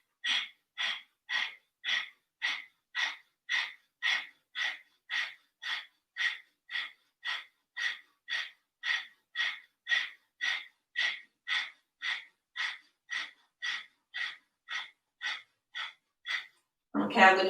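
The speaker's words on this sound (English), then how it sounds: "And then start the Kapalbhati breathing." Kapalbhati yoga breathing: a long, even train of about thirty sharp, forceful nasal exhales puffing close and loud in a steady rhythm roughly twice per second, ending with a brief voice.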